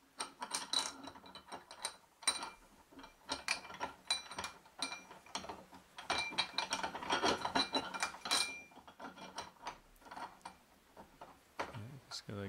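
A Lee Valley guitar repair bench vise being spun onto its mount beneath a bench: repeated ratcheting, clicking and rubbing metal turns in irregular bursts, fairly close, with a little speech now and then.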